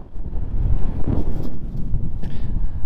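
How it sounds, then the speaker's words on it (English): Strong gusts buffeting an outdoor microphone on a shallow-water metal-detecting outing, a loud continuous roaring rumble that swells and dips with no pause. "Forgive me for this wind."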